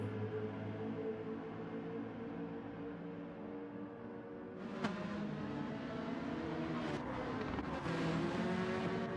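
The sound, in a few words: race cars driving by in video game Gran Turismo 7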